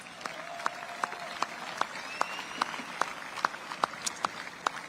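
A small audience at an independence 250th-anniversary celebration in Brussels, Belgium claps in scattered, distinct hand strikes, light and somewhat distant, with brief sharper claps standing out.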